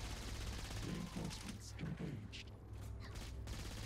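Rapid bursts of gunfire in a video game, faint and muffled under a constant low hum, with a voice briefly heard.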